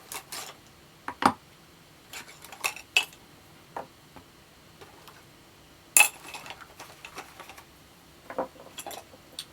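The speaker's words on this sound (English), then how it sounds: "I've got to clear this zone with the noisy chisels" Chisels carving a woodblock for Japanese printmaking, sporadic sharp taps and clicks at irregular intervals, some louder knocks standing out over a quiet background.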